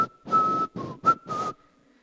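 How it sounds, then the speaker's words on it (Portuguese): A man whistles a short tune alone: four bright, sustained notes in quick succession, fairly close and clear, with a brief gap between the first and second phrases and quiet after the last note. "Eu assobiava como ninguém, assim, ó."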